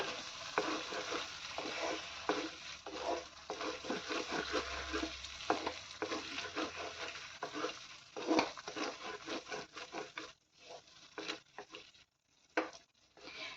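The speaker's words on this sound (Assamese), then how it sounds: "এইটো অকণমান মিক্স হ'বলৈ দিম, মছলাটো সোমাই যাওক, অকণমান টাইম ভাজিম।" Steady crackling sizzle of potato and egg frying in a pan with spices, with occasional stirring scrapes and pops, close by and moderately loud; briefly quieter near the end.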